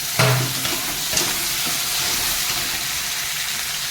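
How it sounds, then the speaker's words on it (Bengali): Potatoes and onion frying in a pan with a whole green chilli, a steady broadband sizzle with a brief stir or clatter near the start, close and continuous without talk. "আলু আর পেঁয়াজটাকে পুরো ভাজবো"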